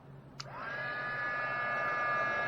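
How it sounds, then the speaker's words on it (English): An embossing heat gun starts with a click and spins up into a steady, close whirring blow of air aimed at encaustic wax, holding an even pitch throughout. "embossing gun will do, and it's going to blow a lot of air out of here"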